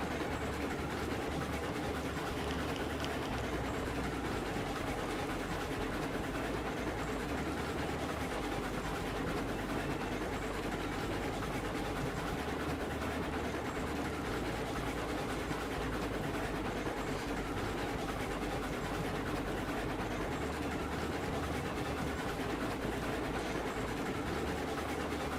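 Train rolling on rails in Railroads Online, a short train climbing toward a coal mine, with a continuous low rumble and a soft, steady rattle of the wheels, unbroken and with no voices.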